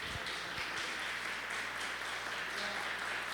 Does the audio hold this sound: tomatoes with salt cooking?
no